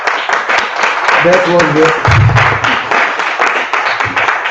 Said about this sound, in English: I ask you to clap your hands if you want.